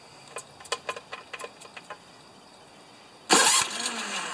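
A series of light mechanical clicks precedes the snow blower's small carbureted engine catching, which then roars to life abruptly and loudly, close up.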